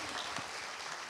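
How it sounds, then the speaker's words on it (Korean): Audience applause for Professor Shin Young-cheol after his lecture at a mental health concert, a steady, dense clapping that fills the hall from start to finish with no voices over it. "다시 한번 열강해 주신 신영철 교수님께 큰 박수 보내주시기 바랍니다"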